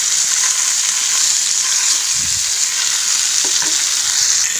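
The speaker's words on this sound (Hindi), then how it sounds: "और इनको थोड़ा सा फ्राई कर लूँगी।" Fish head pieces fry in hot oil for a fish head curry, giving a loud, constant high sizzle with a few low thuds from the pan partway through.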